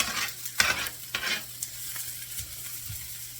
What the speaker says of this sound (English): I diced up my onions and peppers, and we're just gonna cook these until they're nice and sauteed.